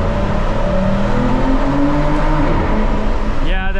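An Aston Martin DBS engine and exhaust pull hard in second gear, a loud, continuous rising drone with climbing harmonics filling the whole clip, heard from inside the car.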